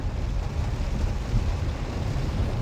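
Heavy rain drumming on a vehicle driving through the Nallamala forest, a steady dense roar with low rumble from the moving car, no voices.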